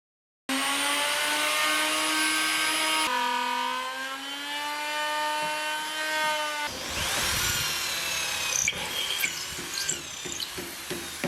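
A jigsaw and then a router cut into wood while building a coffee table, a high, steady motor whine that shifts pitch partway through and turns rougher and more broken near the end.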